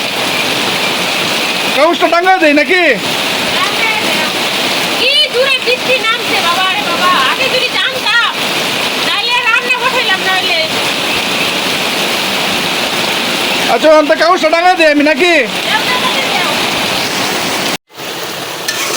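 Heavy rain pours steadily onto a leaking village kitchen in a loud, unbroken wash of noise, while people talk over it in several bursts.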